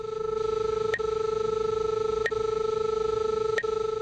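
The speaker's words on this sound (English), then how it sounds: "when the signal is on your left, you'll hear a pinging tone along with the normal audio" A steady electronic tone hums continuously from a Seektech SR-24 receiver locator while three brief, sharp pings sound at regular intervals about a second and a half apart, signalling the target is to the left.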